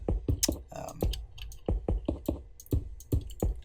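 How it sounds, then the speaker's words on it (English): Keys clatter on a quiet membrane computer keyboard in quick, irregular taps, close and dry, with short pauses between bursts of typing. "the membrane keyboard I've been using, because it's very quiet"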